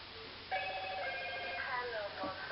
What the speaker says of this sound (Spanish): el celular está sonando